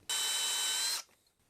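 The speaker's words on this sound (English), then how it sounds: "I'm drilling a little bit off." A power drill boring into a 1/4-20 bolt during a stripped-thread repair gives one loud, steady whine lasting about a second before cutting off abruptly, close and alone.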